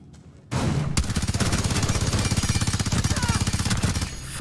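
Sustained P90 automatic fire in a first-person shooter video game: a loud, rapid, even stream of shots that keeps going for several seconds without a break.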